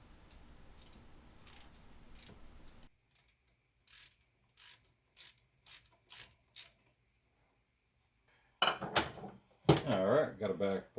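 A ratchet tightens a bolt on the input speed sensor of a 2000 Hyundai Sonata during a P0715 repair, giving a series of short, evenly spaced clicking bursts in a quiet space, followed by louder handling noise.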